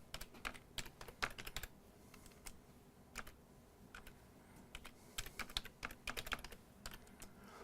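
Someone types a copy command on a computer keyboard, giving close bursts of quick key clicks with short pauses between words and no voice.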